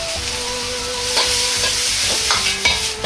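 Bean sprouts, ginger and other vegetables stir-fried over high heat, giving a steady loud sizzle with scraping and tossing of the spatula, close up and with no talking.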